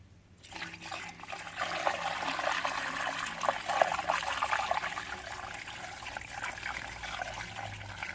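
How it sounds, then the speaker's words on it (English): Water being poured into a rusty motorcycle petrol tank during rust removal, a steady close trickling and splashing stream that builds quickly and runs continuously, with no voices. "So I'll top up with extra water."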